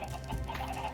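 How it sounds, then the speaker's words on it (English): Chickens clucking in the Minecraft video game, a steady close layer of short game-sound clucks running through the whole second over a dense background. "I also now had a lot of chickens."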